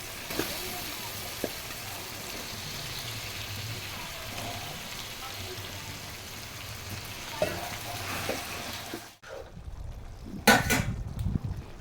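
Chicken frying in a pan with softened tomato and ginger garlic paste for chicken gravy, a steady sizzle with occasional utensil clinks for most of the clip, ending in a few louder clattering stirs close by.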